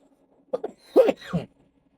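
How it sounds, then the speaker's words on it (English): A cluster of rough, throaty bursts, a short cough or throat clearing close to the microphone, with silence around it. "Sorry for that cough."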